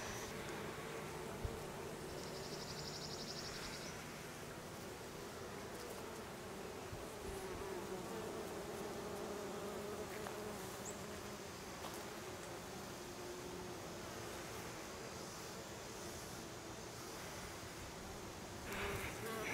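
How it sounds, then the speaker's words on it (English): Bees buzz around blooming crepe myrtle flowers outdoors, a dense, faint hum of many insects under rustling and breeze that continues steadily throughout. "Listen to all the bees."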